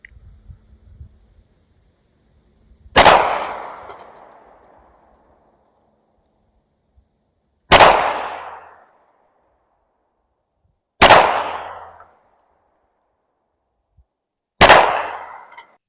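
Four loud, sharp shots from a Smith & Wesson Shield X Carry Comp 9mm pistol at an outdoor range, spaced several seconds apart, each with a sharp crack and a decaying echo tail.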